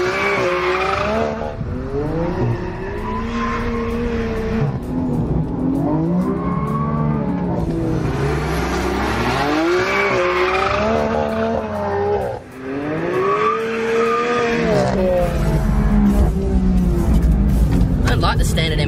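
A 2017 BMW M4 GTS engine revs loud and close in rising and falling sweeps, with tires squealing as it drives hard, filling the whole stretch.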